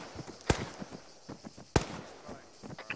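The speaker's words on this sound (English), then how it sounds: "Someone's still shooting at something up here, so be ready." Distant gunfire in the Arma 3 co-op military game: two sharp loud reports about a second apart, with scattered fainter pops and crackles in between, no talk over them.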